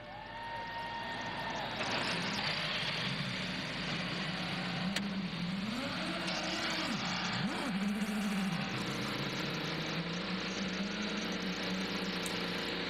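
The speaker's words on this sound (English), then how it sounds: "Drivers, start your engines!" IndyCar race car engines starting and idling on a pit road at a Grand Prix, with a steady loud mechanical drone and a low rumble that swells and dips as revs rise and settle, over a continuous broadband roar.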